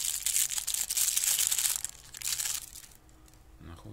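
The plastic packet of a Nikon EN-EL14a camera battery crinkles and crunches close up in several bursts of handling, quieter toward the end, with no talking.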